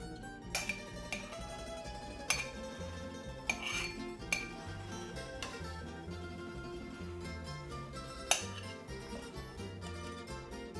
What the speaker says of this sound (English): Now we're going to transfer these beautiful slices right into the jars and simply stack them.